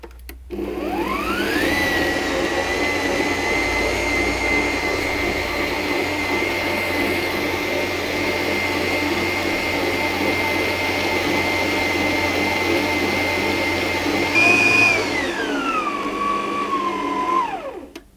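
Stand mixer kneading Italian Easter bread dough in a bowl, a loud steady motor whine that ramps up, holds for a long stretch and then winds down, with no talk.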